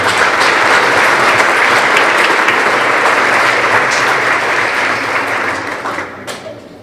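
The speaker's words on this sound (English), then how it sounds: "Let's give a round of applause for boys basketball." Loud, sustained applause from a school awards ceremony crowd honoring the boys basketball team, dense clapping that holds steady and then tapers off near the end.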